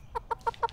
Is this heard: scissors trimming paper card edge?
no